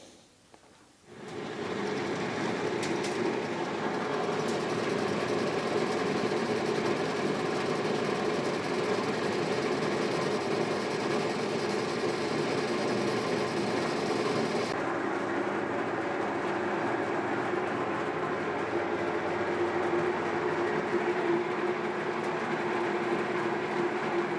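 A giant exhaust fan starts up and runs with a steady loud whooshing drone and a low rumbling hum that stays constant, with a slight change in tone about midway through.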